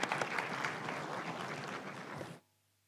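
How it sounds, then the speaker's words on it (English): Conference attendees at a banking event give a round of applause for the welcome address, dense, even clapping that runs for a couple of seconds and then stops abruptly into near silence. "Round of applause."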